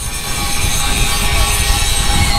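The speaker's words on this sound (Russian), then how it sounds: "а третья болгарка шлифует щеткой жесткой" An angle grinder fitted with a stiff wire brush scours rust off metal while building a profiled-sheet fence, a loud, steady, harsh abrasive hiss that continues without pause.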